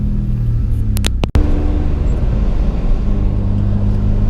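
A turbocharged J35A7-swapped 7th-gen Honda Accord making 550 whp, running on a small battery, cranks briefly and catches. It then settles into a steady, deep, close idle rumble.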